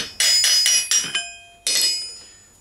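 A hammer strikes an armour plate held on a curved stake made from an old drill bit, giving four quick ringing metallic blows, a pause, then one final loud clang that rings out and decays.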